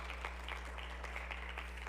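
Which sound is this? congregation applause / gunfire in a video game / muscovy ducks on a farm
congregation applause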